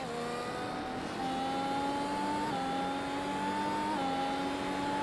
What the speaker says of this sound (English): You can hear the lift and the downshift for Robin Summer on the medium tire.